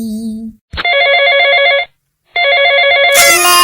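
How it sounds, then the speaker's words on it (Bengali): Cartoon telephone ringing in two long, loud electronic ring bursts with a short silent gap between them, followed by a harsher noisy burst at the end. "বাবা কজুয়া কেন ফোন করছি"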